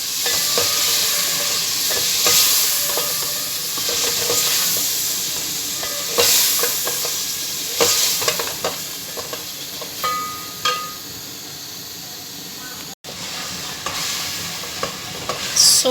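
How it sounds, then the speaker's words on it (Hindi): Tomatoes frying and being stirred into chicken masala for a green bean and chicken dish, a loud, continuous sizzle with repeated scraping strokes of a spoon against the pan. "अब इसमें डालेंगे टमाटर और इसको हम अच्छे से भून लेंगे"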